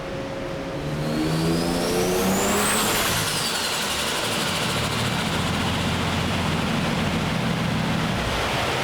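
A Ford AU Falcon engine revs hard on a dyno, a loud, steady high-rpm roar with a rising whine early on, running continuously through the clip with no clear cut-out.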